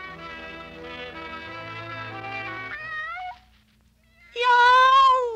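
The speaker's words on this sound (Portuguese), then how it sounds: "Iau! Eu sou aquele faminto gatinho." A cartoon cat in a Portuguese-dubbed Woody Woodpecker episode gives a loud, drawn-out voiced meow after a steady held tone, its cry coming close and clear near the end.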